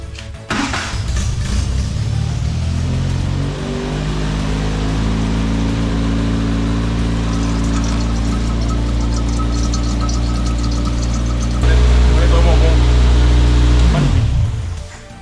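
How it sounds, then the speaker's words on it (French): A single-seater race car engine fires up and runs steadily, a loud low-pitched roar with a rise in intensity near the end before it cuts off. "Ok, donc on va faire un essai moteur démarré."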